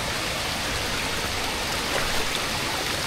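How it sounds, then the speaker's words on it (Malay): Small forest stream in the hills of Terengganu flowing steadily, a continuous close rush and babble of water over rocks with no voices. "Lagi anak sungai."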